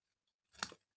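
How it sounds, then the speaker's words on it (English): Scissors snip once through a patterned card border, a short crisp cut heard close up and alone in an otherwise quiet moment of papercraft cardmaking. "So I can cut it with my scissors"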